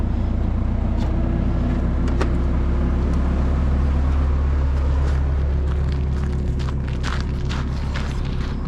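A new forklift drives around a shop, its engine holding a loud, steady low drone throughout, with light clanks and rattles over the top.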